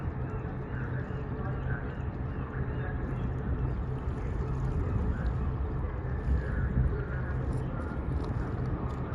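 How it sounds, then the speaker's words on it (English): A car ferry sets off from Crofton toward Salt Spring Island on Vancouver Island, with a steady low engine rumble, water wash and wind noise over the microphone running throughout. "So there's the ferry, all ready to go."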